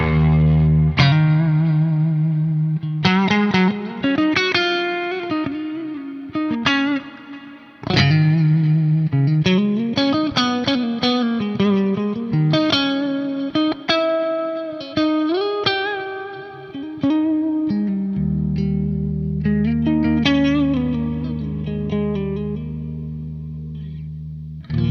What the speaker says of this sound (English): now what I want to do is just add a little bit of reverb and delay to the